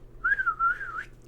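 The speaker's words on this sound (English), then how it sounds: "So you just blow your whistle." A single whistle is blown to call a 1960s Remco Tricky Doodly Duck toy: one clear, close, wavering tone that lasts just under a second, with nothing else heard.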